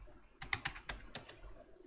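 A computer keyboard is typed on quietly at close range as a password is entered in a Linux terminal, a quick run of about five soft key clicks over a faint background hum.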